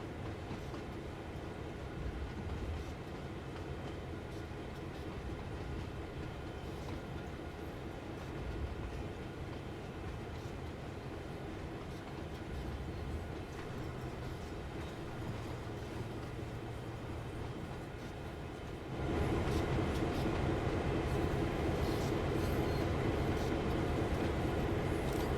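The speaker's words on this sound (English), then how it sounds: "These freight trains are so loud." A long CN freight train rolls along the Oakville Subdivision in Train Sim World 3, a steady, loud rumble of wheels and wagons that grows noticeably louder and fuller partway through.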